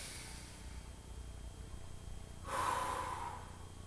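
A long, soft breath drawn in and released during a yoga class, faint and close against a quiet room hiss, with the exhale swelling into a louder rush near the end.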